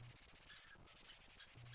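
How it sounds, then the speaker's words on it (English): Filler on a Mercedes W123 body being sanded down by hand, close and alone, with short rhythmic rubbing strokes and a brief pause midway. "It was now just a case of carefully sanding down all of the filler and priming over it"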